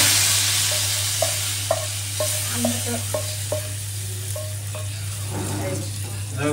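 Hot oil sizzles continuously as a baghar of spices is tempered for dal, with light clinking stirs of a spoon against the pan and a steady low background hum throughout.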